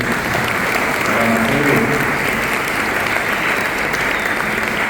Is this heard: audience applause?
yes